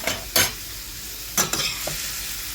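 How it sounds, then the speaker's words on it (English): Broccoli sautés in a splash of cooking liquid in a pan, a steady soft sizzle broken by a few sharp stirring scrapes and clinks up close, with no talking. "get that sauteing of that broccoli"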